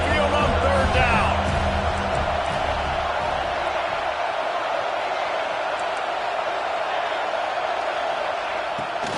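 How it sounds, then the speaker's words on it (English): A college football stadium crowd at Alabama roars on third down, a dense, loud, steady wash of noise that holds throughout, with a commentator speaking faintly over it at the start. "The Tide crowd rolling noise down on the Saban field on third down."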